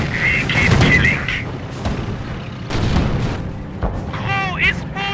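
Booming artillery and gunfire in the video game Command of Heroes, during a German assault, with repeated heavy blasts and crackling shots. Shouted voices run through the sounds, along with bursts of radio chatter.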